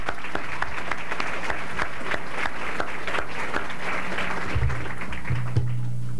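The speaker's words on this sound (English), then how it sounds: "Let's give him a round of applause." At the Canfest '89 awards show an audience gives a full, steady round of applause for a community volunteer honoree, continuous dense clapping with a brief low rumble and voice near the end.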